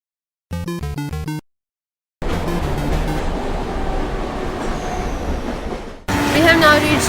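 A Mumbai local train runs with steady rumbling and rattling over several seconds, a brief musical chime sounding beforehand and the noise swelling louder near the end.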